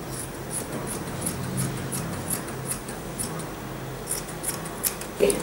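Scissors trim excess fabric from a sewn drawstring bag, giving a regular series of small, crisp snips against a quiet room background.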